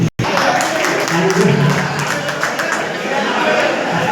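Steady, dense applause from a gathered crowd at a Kakinada goldsmiths' association meeting, continuous and fairly loud with a murmur of voices underneath, after a brief silent gap at the very start.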